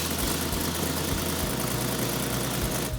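A restored car engine idles steadily throughout, a continuous low rumble with a slight rhythmic pulse that cuts off abruptly at the very end, with no voices.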